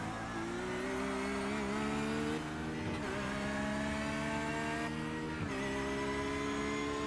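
A GT3 race car in a racing video game runs down the bumpy Long Beach backstretch, its engine holding a steady high drone with brief dips as gears shift, loud and continuous without any voices.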